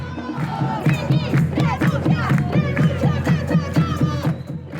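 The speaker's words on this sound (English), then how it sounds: "blasting out chants and riling up the crowd" A large protest crowd in San Juan, Puerto Rico chants loudly in a steady rhythmic cadence, many voices shouting together in unison, dense and continuous, with individual shouts rising above the mass.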